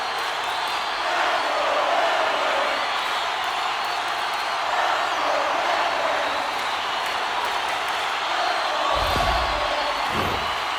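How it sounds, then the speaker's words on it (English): A steady, loud crowd roar fills a hockey arena in NHL 26 during a Toronto Maple Leafs vs Detroit Red Wings game, an unbroken wash of cheering with a couple of low thumps near the end. "You can feel the energy in this crowd."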